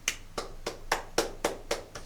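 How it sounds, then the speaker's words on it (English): Eight evenly spaced sharp claps from a single pair of hands, crisp and close, about a quarter second apart with silence between them. "Everybody clap."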